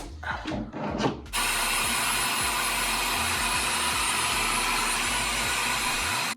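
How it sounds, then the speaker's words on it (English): A hair dryer switches on after a few brief knocks and blows with a loud, steady whoosh, then cuts off abruptly. "I have to figure out how to plug in this blow dryer with a plug in like this"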